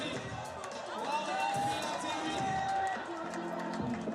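A large crowd of spectators fills a city plaza under lights at a BMX freestyle spine ramp event, a steady murmur of chatter and movement with faint whistles, heard alongside talk.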